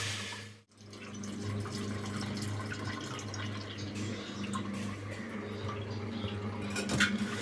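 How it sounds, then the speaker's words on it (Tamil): Cooking water is strained off boiled lentils (toor dal) for sambar, a steady close trickle and splash of liquid into a vessel with light dripping, with no talking. "பருப்பு வந்து அந்த தண்ணியை மட்டும் வடிகட்டிக்கிட்டேன்."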